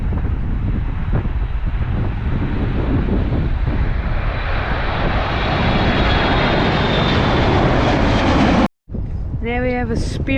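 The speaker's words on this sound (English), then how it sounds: "There we have a Spirit A320 rolling down the runway. That was cool, nice and loud." Spirit Airlines Airbus A320 rolling down the runway, a loud, close, steady jet engine roar with a rising whine that runs for most of the clip, cut by a brief dropout before fainter tonal sounds follow.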